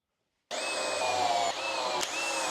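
Power drill driving screws into a wooden garden hose hanger clamped to a workbench: one continuous whirring run of about two seconds, close and loud, with a short dip in pitch midway and no voices.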